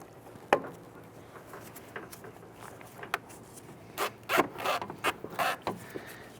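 Pliers squeeze a spring hose clamp and slide it back along a Chrysler 300 coolant hose under the hood, making faint close metallic clicks and scraping rustles in short bursts, with no talking.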